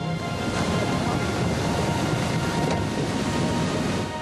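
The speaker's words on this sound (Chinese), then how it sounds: "海边的凉亭瞬间被大浪吞噬" Large sea waves surging over a seaside pavilion at Qixingtan, a steady, dense roar of crashing surf and wind filling the whole stretch with no pauses.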